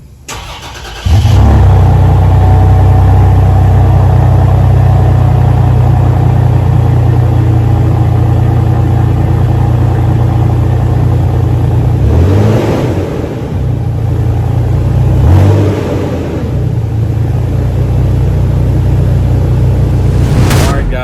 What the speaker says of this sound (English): if it's a cold morning, it's time for a cold start